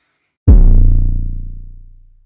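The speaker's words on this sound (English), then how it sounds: "It's almost like a melodic kick sound" A single deep 808 kick with a punchy attack and a long, booming pitched bass tail that slowly fades out.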